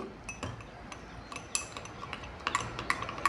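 A spoon clinks and scrapes against the inside of a cup or bowl in short, irregular bursts while milk powder is stirred into hot milk, quiet and close.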